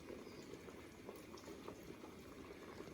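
Starchy pasta water with oil boiling in a pan for aglio e olio, a dense, steady bubbling and popping at low level throughout, no speech.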